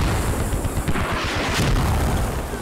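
Mortar explosions in the military shooter Squad, a continuous dense rumble of booms and blasts with no clear gaps, loud and sustained throughout.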